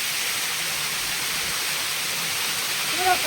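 The Akash Ganga waterfall at Chakra Tirtha roars as a steady, dense rush of falling water, close and constant, with no break across the clip.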